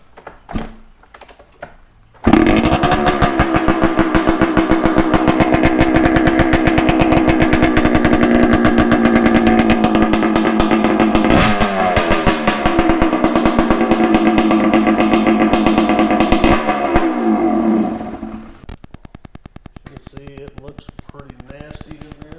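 A motorcycle engine runs with its DG Type II silencer removed. It kicks in abruptly and blares as a loud, raw, pulsing drone with shifts in revs, then drops to a quieter ticking run near the end.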